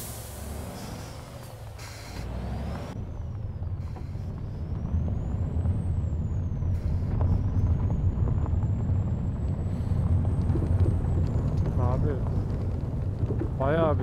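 A truck brakes while rumbling along a narrow, stony road in Euro Truck Simulator 2. A steady low engine drone and road noise run throughout, swelling slightly midway, with brief hissing bursts near the end.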